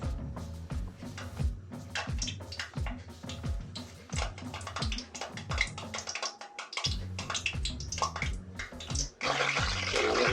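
Baby eggplants go into oil heated to 120 degrees for bagara baingan, crackling and popping close by in repeated bursts before a dense, loud sizzle.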